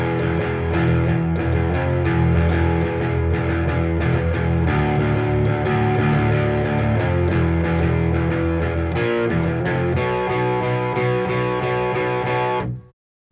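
Electric guitar run through an octave pedal to mimic the bass part of the verse of a song, playing a distorted rhythmic riff with thick low octave doubling, loud and close, cutting off abruptly at the end.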